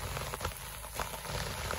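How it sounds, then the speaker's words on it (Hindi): Winter rain falls outdoors, a soft, steady patter with scattered drop ticks, faint and continuous with no voices. "माशाल्लाह बारिश हो गई, अच्छी बारिश हो गई है।"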